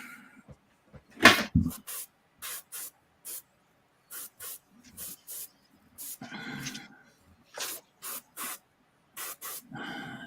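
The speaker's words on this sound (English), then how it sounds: "That nozzle's plugged up." A spray paint can with a plugged nozzle gives short, sharp hissing bursts in an irregular series, some sputtering and uneven, close and fairly loud, with quiet gaps and faint talk between them.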